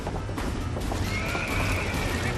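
Horses whinny loudly and close by, with hooves clattering underneath, as they are panicked in a burning barn; one long neigh stands out over the continuous commotion.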